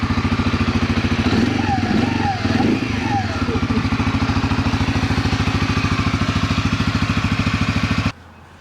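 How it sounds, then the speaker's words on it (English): A CFMoto CForce 400 4x4 ATV engine idles nearby with a smooth, steady mechanical thrum and regular pulsing, running unchanged for about eight seconds before cutting off abruptly; a voice is heard briefly early on. "It's a very smooth motor."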